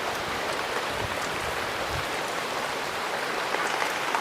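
Steady rain pours down in a rural village, an even, continuous hiss of drops on surfaces without pause or voices.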